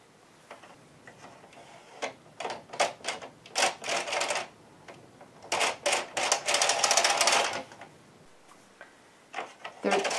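Carriage of a knitting machine pushed back and forth across rows, giving clustered rattling, clicking bursts that come in irregular rhythmic groups at moderate closeness.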